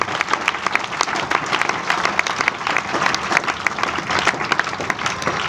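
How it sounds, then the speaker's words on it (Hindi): A congregation at a Sunday church worship service claps loudly, a dense, continuous burst of applause from a large crowd that carries on without a break. "जोर से ताली बजाओ, जोर से।"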